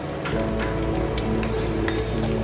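Pomfret fish curry with a little sugar being stirred in a frying pan: a steady sizzle with brief utensil scrapes and taps throughout, close and even, with no talking.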